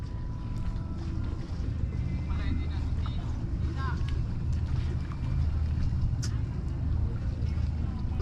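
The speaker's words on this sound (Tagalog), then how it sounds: "papalapit na po yung bangka lansya yan" Steady low engine drone of a small motorboat on the water, wind and distant voices mixed in.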